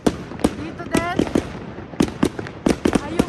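New Year fireworks in the Netherlands bursting non-stop around the listener, a rapid run of sharp bangs and crackles at irregular intervals, some near and loud, others farther off.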